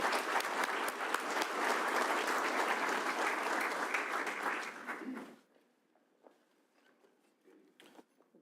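An audience at a graduation ceremony bursts into sustained, dense applause to welcome a speaker, then claps thin out and stop abruptly, leaving a few scattered claps and quiet room noise.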